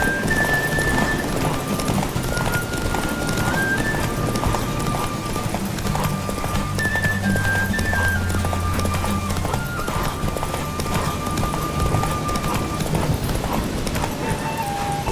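Horse hooves clip-clopping in a steady rhythm during a race in a horse game, loud and continuous, with a neigh and melodic tones running alongside.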